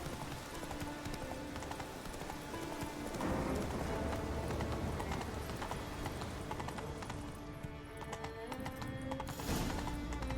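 Roach the horse trots along in The Witcher 3, hooves clip-clopping in a steady quick rhythm beneath a layer of game music and ambience.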